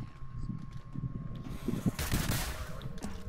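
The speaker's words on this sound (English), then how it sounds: "I hear gunshots." Bursts of gunfire in a battle royale video game, a rapid run of automatic shots building to louder, closer blasts in the second half, with mechanical clicks mixed in.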